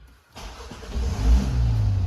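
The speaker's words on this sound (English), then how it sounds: "Start the car" A 2024 Mini Cooper Clubman engine cranks after a brief near-silence, catches and settles into a steady, loud, close idle with a low rumble.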